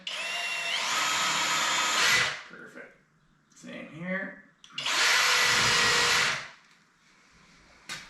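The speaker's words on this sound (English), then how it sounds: "Put a couple holes in it to drill." A power drill bores holes in wood, whining loudly in two long bursts, with brief talk between them.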